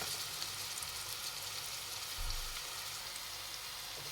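Onion pieces frying in hot oil, a steady soft sizzle and crackle with a brief stir or shuffle in the middle.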